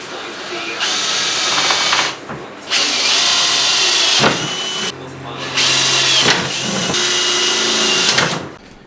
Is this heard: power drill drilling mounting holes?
yes